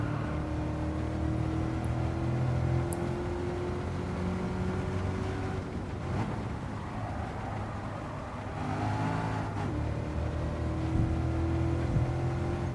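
A Corvette race car's engine droning steadily at high speed in Gran Turismo 7 on the Tokyo Expressway, with sustained tonal whine, brief shifts and dips around mid-clip, close and continuous.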